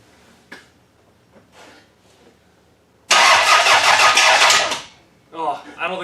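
A car engine with a suspected blown motor and smoke from the dipstick hole cranks and fires loudly for about a second and a half, after scattered quiet knocks, then people talk over it.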